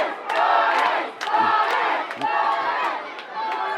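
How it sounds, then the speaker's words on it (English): Borrisoleigh hurling supporters at a Munster final against Ballygunner chant their team's name as a crowd, with loud rhythmic shouts repeating several times and swelling across the stand. "And the Borris crowd are shouting,"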